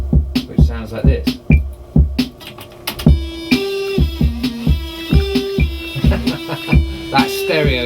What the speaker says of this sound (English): That stereo kazoo there